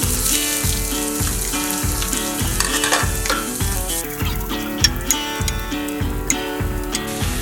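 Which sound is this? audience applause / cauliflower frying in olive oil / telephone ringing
cauliflower frying in olive oil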